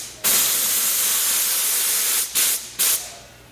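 Spray can of contact adhesive hissing onto 2-inch by 3/4-inch foam strips for an Alfa Romeo interior, one long loud burst followed by two short sharp blasts, no voices.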